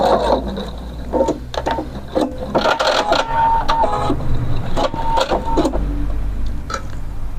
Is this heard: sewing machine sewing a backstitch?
yes